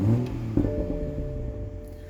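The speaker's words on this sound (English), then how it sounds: "you can get a sense of what the engine note sounds like when you fire it up" A 2021 Toyota GR Supra 3.0 fires up with a sharp starter catch and throaty burst, then settles into a steady low rumbling idle that slowly fades, heard from inside the car with the window rolled down.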